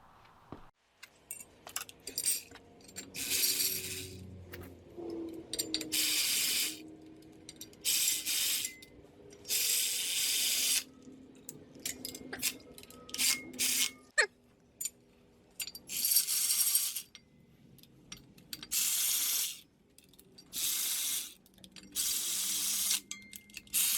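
A ratchet wrench bolts adapter motor mount plates onto an LS engine for a square body Chevy crew cab dually swap, heard as repeated bursts of quick clicking with short pauses between, close and fairly loud, with metallic clinks.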